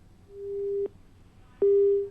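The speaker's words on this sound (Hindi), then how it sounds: "विशाल ने जैसे ही हमारे सवाल सुने तत्काल फोन काट दिया।" Two long, steady beeps of a telephone busy tone after a call is cut off, each lasting over half a second with a pause between, moderately loud over faint line hiss.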